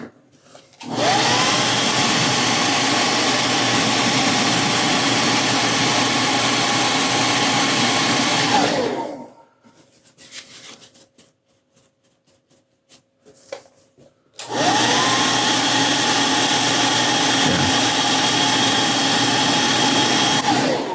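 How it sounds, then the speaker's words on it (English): A hair dryer blows loudly and steadily for several seconds, cuts off briefly to quiet rustling, then roars back on at full strength. "So if I hit that with a hair dryer,"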